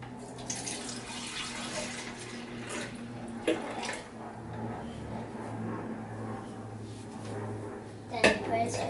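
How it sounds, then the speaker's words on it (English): Milk poured into a container for a protein shake, a quiet, continuous liquid stream with a couple of small clunks of handling and faint background room sound. "you pour the milk in first"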